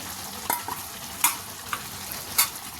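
A spoon stirs chicken curry with tomatoes and chili powder in a pan, giving a soft steady sizzle broken by a few sharp scrapes against the metal.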